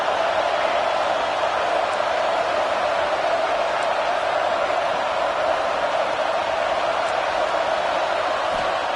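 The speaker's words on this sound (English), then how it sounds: "This crowd going to try to make life miserable for these guys." Steady distant roar of a college football stadium crowd, a constant broad murmur and hum that holds evenly throughout without distinct cheers or voices standing out.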